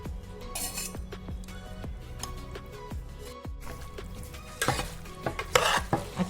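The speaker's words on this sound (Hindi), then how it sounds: "अच्छी तरह से मिक्स करके लेना है" Chicken pieces being mixed by hand or spoon with herbs and cooking oil for a biryani marinade in a bowl, giving soft wet squelches and repeated clinks of utensil against the dish, close and steady, with a louder clattering stretch near the end.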